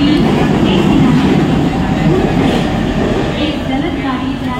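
A fast local train runs past a crowded Ghatkopar railway station platform in Mumbai, making a loud, steady low rumble with rail clatter that fills the whole stretch, while faint voices sound underneath.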